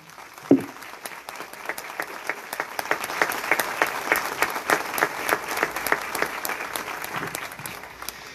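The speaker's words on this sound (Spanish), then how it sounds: "Le damos un aplauso a la Virgen." A church congregation applauds at Mass on the fourth Sunday of Advent, sustained dense clapping that fills the room steadily for several seconds after a brief louder burst at the start.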